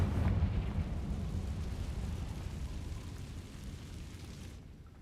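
In Hogwarts Legacy, a Confringo blasting spell lands as a deep rumbling explosion that booms at the start and then rolls on in a long, fading low roar for several seconds, with no talk.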